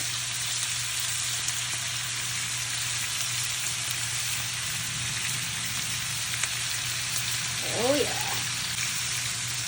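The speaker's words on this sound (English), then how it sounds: "look at that perfect sear right there" A ribeye steak seasoned with salt, pepper and garlic sears in a hot pan, a dense, even sizzle running close and steady throughout, with a brief spoken exclamation near the end.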